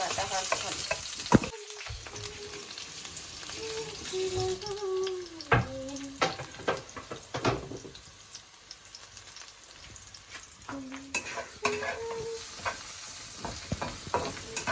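Flattened rice (chira) frying in a pan for pulao, stirred steadily with repeated scraping and clinking strokes over a soft continuous sizzle.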